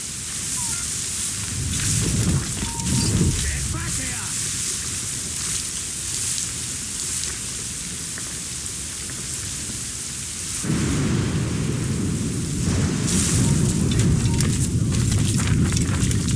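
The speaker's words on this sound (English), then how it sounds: "The storm's getting worse." A thunderstorm with steady heavy rain fills the scene in the video game Assassin's Creed Rogue. Rumbling thunder swells and fades under a constant rain hiss, with a deeper roll building toward the end. No voices.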